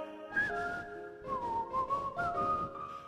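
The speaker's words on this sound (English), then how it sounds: "Just purse your lips and whistle, that's the thing." A person whistling a tune with pursed lips along to a song, clear sustained sliding notes, close and fairly loud, with no talk.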